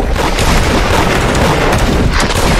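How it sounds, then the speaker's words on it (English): Heavy video game gunfire and booming impacts during a server raid, loud and continuous, with dense overlapping shots and blasts. "they all shooting at me"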